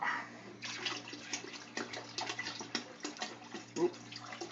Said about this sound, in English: I'm going to pour some water in, probably about to that top rivet.